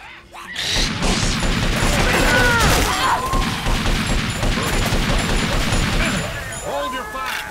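Gunfire in a shooting video game, a dense, loud barrage of rapid shots and crashing impacts that runs almost without a break, with voices faintly mixed in.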